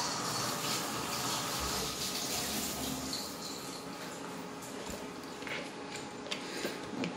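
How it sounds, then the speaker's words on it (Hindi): Vegetables for a mutter, carrot and onion kachori filling are rinsed in water, giving a continuous close splashing and trickling wash with small clicks and knocks of handling. "हम थोड़ा सा धो लेते हैं पानी में।"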